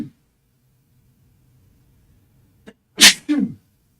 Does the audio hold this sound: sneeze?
yes